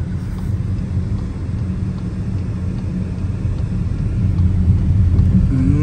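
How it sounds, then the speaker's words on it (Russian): Inside a Toyota car rolling along the road, a steady low rumble of engine and tire noise fills the cabin, swelling slightly louder near the end, with no voices. "А сейчас я еду, кстати, Toyota завожу на ТО."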